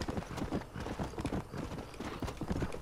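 A horse gallops in the game Red Dead Redemption, the quick rhythmic hoofbeats close and loud throughout, clattering steadily with no voices.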